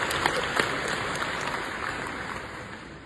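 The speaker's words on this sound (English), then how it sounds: "let's give her another round of applause" Audience applause at COP28 in Dubai for young climate activist Licypriya Kangujam, a dense wash of clapping heard from a distance, steady and fading slightly toward the end.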